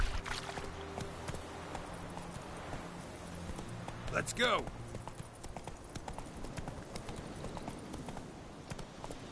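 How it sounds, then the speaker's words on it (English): Steady clip-clop of horse hooves at a quick gallop in The Witcher 3 video game, close and continuous, with a short spoken call and a brief whooshing burst midway. "I love it that you can just ride your horse."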